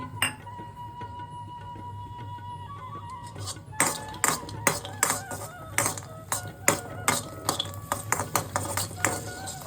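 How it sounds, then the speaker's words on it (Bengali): Cashews and raisins fried in ghee in a pan, heard as a low background hum followed by a run of sharp metallic clinks and scrapes of a spoon against the pan, repeating every half second or so. "কাজু আর কিশমিশটা ভাজা হয়ে গেছে,"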